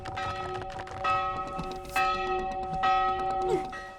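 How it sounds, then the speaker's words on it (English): Church bell ringing from a fantasy drama, repeated strikes roughly once a second with long ringing tones, fairly loud and alone with no talking. "You're not concerned at all about that bell ringing?"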